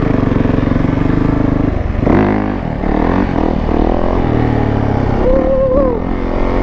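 Yamaha YZ125 two-stroke supermoto motorcycle ridden off-road on trails, its engine buzzing loudly up close, dropping off then revving up again with rising and falling pitch, with a brief whoop or voice near the end.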